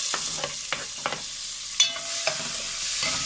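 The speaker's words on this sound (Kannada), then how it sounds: "ಇದೊಂದು ಸ್ವಲ್ಪ ಗೋಲ್ಡನ್ ಕಲರ್ ಬರುತ್ತೆ ಅಂತ ನಾವು ಫ್ರೈ ಮಾಡ್ಕೋಬೇಕು" Chopped onions and curry leaves fry in oil in a pan, a steady sizzle broken by several sharp scrapes and clinks of a spoon stirring, one louder knock midway.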